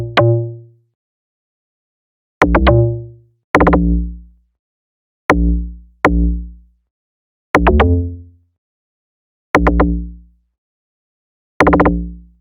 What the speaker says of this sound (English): the only instrument in this part that was added was just the log drum